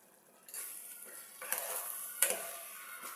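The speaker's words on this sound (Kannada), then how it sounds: "ಈ ಥರ ಎಲ್ಲ ಮಸಾಲೆ ಎಲ್ಲ ಕುದಿ ಮಾಡ್ಕೊಂಡು ಬಿಡಬೇಕು" Masala simmering in hot oil in a pot, a steady soft sizzle with a few sharper bursts and light scrapes as it cooks, close and moderately quiet with no talk.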